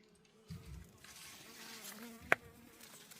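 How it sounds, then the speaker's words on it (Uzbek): Bees buzz faintly among strawberry plants under netting, a soft insect drone close by with one sharp brief buzz passing near the microphone. "Arilar kelib changlatishi ham yaxshi bo'lyapti uni."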